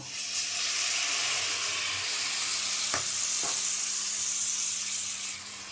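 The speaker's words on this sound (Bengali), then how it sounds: "পেঁয়াজ রসুন ভাজা ভাজা হয়ে গেছে। এখন সামান্য একটু জল দিয়ে দেব।" Onion and garlic sizzle loudly in a hot pan after a little water is added, a steady hiss and steam with two brief utensil clicks, close up.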